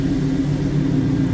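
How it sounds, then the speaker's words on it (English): Deep, steady low rumble of a 1966 Chevrolet C10 stepside street rod with a 409 engine and mild cam, idling close by at an even, loud level with no talk over it. "Just nice rumble out of that 409."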